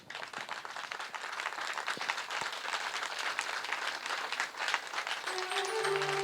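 A standing church congregation at a Sunday service applauds, a soft, fairly distant patter of many hands that holds steady throughout and swells slightly near the end, with a faint tonal sound entering late.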